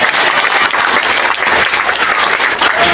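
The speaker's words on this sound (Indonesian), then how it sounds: "Tepuk tangan ya." Sustained crowd applause at an outdoor gubernatorial and regent campaign rally in Gilimanuk, Bali, loud and steady clapping from many people throughout.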